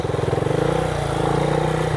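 A motorcycle on a forest dirt trail accelerates slowly, its engine putting out a steady, close, pulsing low throb that holds at a gentle, even rev throughout.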